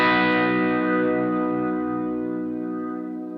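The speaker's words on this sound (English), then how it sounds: "Can you feel that reverb moving around?" Electric guitar chord played through a BOSS GT-1000 rotary effect with reverb, ringing out alone and swirling as it slowly decays over a few seconds.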